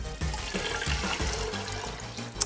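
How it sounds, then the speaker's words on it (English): Room-temperature water is poured into a cooking pot for ashure, a steady splashing, gurgling stream heard close up with no talk over it. "So what I like to do first is add about 4 cups of water at room temperature."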